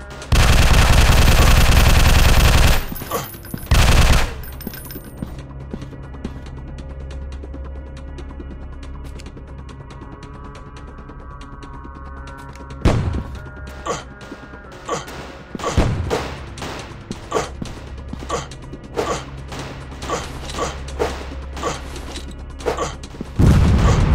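Gunfire in the video game Fire Strike, with loud dense bursts at the start and sharp repeated shots through the rest, spaced irregularly over a steady low game rumble.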